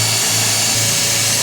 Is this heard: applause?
no